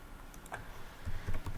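A computer keyboard typed in short soft bursts while a name is entered into a field in GIS raster-analysis software; the clicks are faint and close, with a few heavier key thumps near the end.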